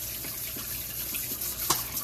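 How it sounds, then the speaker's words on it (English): Canned beans are rinsed under a running kitchen tap, giving a steady close splash of water with small bumps and clinks throughout. "and I rinse and drain them."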